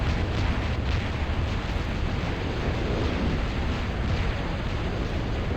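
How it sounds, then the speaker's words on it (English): Bombers strike a gantry in the real-time strategy game Total Annihilation Escalation, a steady roar of continuous explosions and rumbling blasts that stays loud throughout without a break. "he's bombing the gantry here, bringing the brawlers in"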